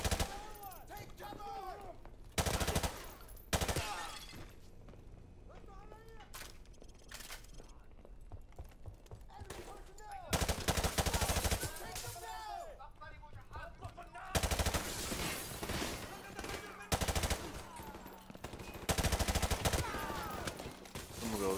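Heavy gunfire, including shotgun blasts, in Modern Warfare Remastered during a campaign breach, with loud sharp bursts recurring at irregular intervals and voices talking between and under the shots.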